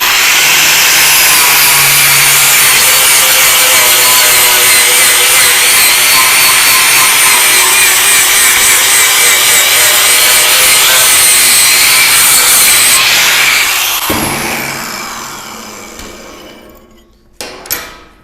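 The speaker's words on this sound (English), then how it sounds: "I'm gonna weld on this outside edge, so I'm gonna grind that piece down." An angle grinder works a metal piece down along its outside edge to prep it for welding, a loud, steady abrasive whine that runs nearly continuously before winding down and stopping, followed by a brief clatter.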